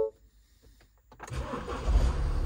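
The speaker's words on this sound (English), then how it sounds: "I'll start the engine up" A 2016 Mini Countryman Cooper SD diesel is started: a click and short cranking whir, then the engine catches and settles into a steady, fairly loud diesel idle heard close up.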